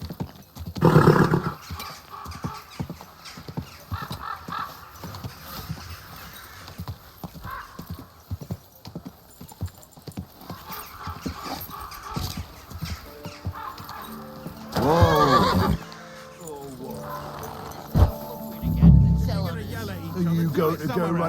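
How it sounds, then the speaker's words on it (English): Horse in the medieval role-playing game Kingdom Come: Deliverance II, with steady clip-clop hooves throughout and a loud neigh near the end, mixed with game ambience and someone speaking over it. "Easy, good horse."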